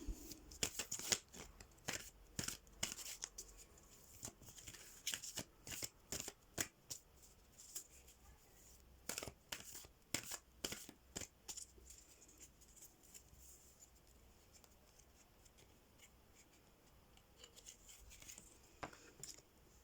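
Tarot cards shuffled and drawn from a deck close up, repeated soft riffling flutters and card slaps in irregular bursts, quiet and without talk.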